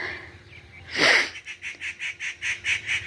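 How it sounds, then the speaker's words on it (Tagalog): On a foggy morning, a bird gives a rapid series of repeated, evenly spaced calls after a brief loud burst of noise, fairly close and clear. "Naririnig niya yung ibon."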